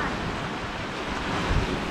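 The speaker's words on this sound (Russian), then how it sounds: "И вот мы попадаем в грот. Здесь дует ветер и холодно, сразу говорю." Wind and surf churn inside a seaside grotto under a rock cliff, a dense, loud, steady roar of rushing air and breaking water with a slightly stronger surge near the end.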